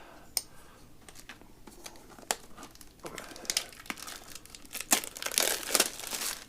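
Someone close by crinkles and peels the packaging from a CRKT Monument knife box. The quiet, irregular rustles and crackles grow busier and louder toward the end.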